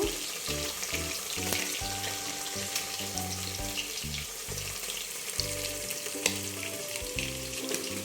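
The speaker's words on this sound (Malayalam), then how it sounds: "നമ്മുടെ വെള്ളം തിളച്ചു" Water boils hard in a pan for jaggery ilayada, a steady bubbling sizzle with scattered pops and clinks over a continuous kitchen background. Nobody speaks.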